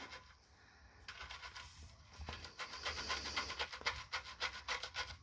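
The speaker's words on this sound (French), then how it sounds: "on prend la petite brosse et on vient brosser" A small brush scrubs a wet part during cleaning, giving quiet, rapid back-and-forth rasping strokes up close that grow busier after the first second, with no talking.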